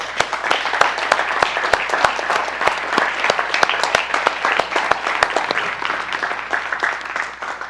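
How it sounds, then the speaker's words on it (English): A standing church congregation at a livestreamed service claps together, sharp individual hand claps falling in a quick, fairly regular rhythm over a wash of general applause, loud and close. "Give Mr. Yahuwah a hand clap"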